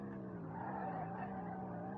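A car's wheels spinning in the SLRR racing game, a quiet, continuous tire squeal with a wavering drone that holds steady over two seconds.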